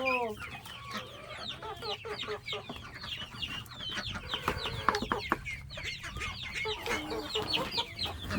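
A flock of chickens clucks excitedly at feeding time, a dense, busy chatter of short, overlapping clucks and squawks from nearby that runs throughout with small bursts of activity.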